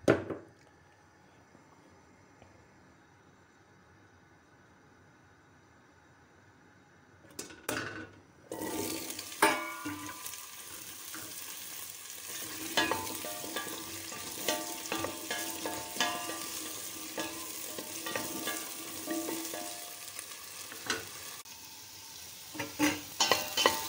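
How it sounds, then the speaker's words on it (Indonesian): Carrots sizzle and scrape in a hot pan as they are sautéed for a vegetarian kudzu root soup. Quiet at first, then steady close frying with repeated stirring clatter. "harus ditumis dulu wortelnya"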